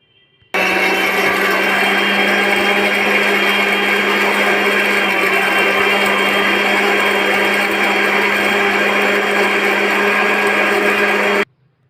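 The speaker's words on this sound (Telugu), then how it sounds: "ఇందులో సాల్ట్ యాడ్ చేసి గ్రైండ్ చేసుకోవాలి" A mixer grinder grinds urad dal chutney with salt, a loud, constant high whirring drone that starts abruptly, holds steady for about eleven seconds and cuts off cleanly.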